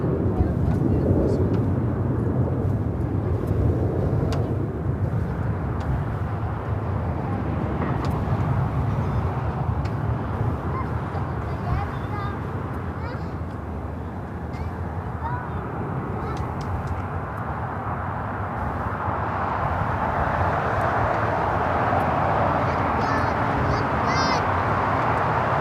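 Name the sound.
Eva Air Cargo Boeing 777 freighter pushing back at LAX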